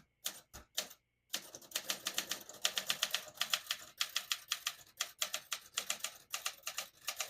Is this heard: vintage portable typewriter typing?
yes